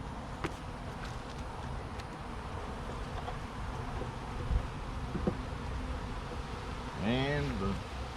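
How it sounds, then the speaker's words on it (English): Wild bees swarm and rob an active beehive, a continuous dense buzzing hum from many insects close by, with a louder nearby buzz toward the end and a voice speaking briefly. "wild hive bees are all up in here robbing this hive out"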